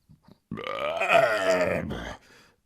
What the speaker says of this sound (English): He belched loudly,